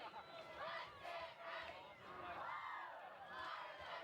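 Rowdy, fairly large crowd at a Mulvane high school senior-night football game against Wellington, distant cheering and shouting that swells and falls in waves, with a broad murmur of voices throughout.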